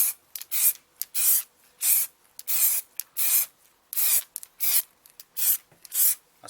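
Plasti Dip aerosol is sprayed onto a graphics card in a series of short, even hisses, roughly a dozen bursts with brief pauses between them, close and clear with no talking.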